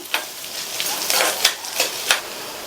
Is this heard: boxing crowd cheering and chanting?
no